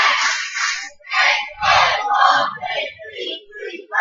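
Hornets high school basketball fans chant a rhythmic cheer from the far side of the gym, a crowd of voices shouting in repeated bursts that echo through the arena.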